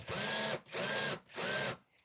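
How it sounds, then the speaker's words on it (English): Power drill driving screws into an electric guitar body, three loud whirring bursts of about half a second each with short gaps, close up. "we're going to just drill these in"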